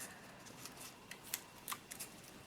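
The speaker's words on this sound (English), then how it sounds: "and then use some scissors to cut it off" Scissors cutting tape while a Christmas card is crafted: a few faint, quick snips and light rustles close by in a quiet room.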